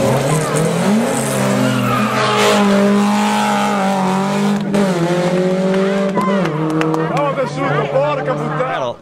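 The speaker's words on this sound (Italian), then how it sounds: "Barale tornano al Sanremo con questa bellissima Talbo Lotus" A Talbot Lotus rally car at the historic Sanremo Rally, its engine loud and near with rising and falling revs and gear changes, while a voice talks over it throughout.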